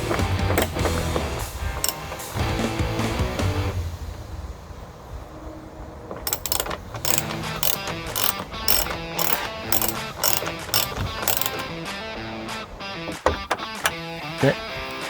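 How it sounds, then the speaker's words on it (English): Fasteners are screwed in to secure a roof top tent mounting, giving a run of sharp ratcheting clicks and mechanical whirs, dense at first and then broken into quick separate bursts, close and fairly loud. "Mark is going to screw it in on the outside, and I'm going to hold it in the inside."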